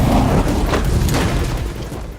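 Fiery CG explosion from a visual effects shot, a loud sustained low boom with crackling fire and roar that slowly fades over two seconds.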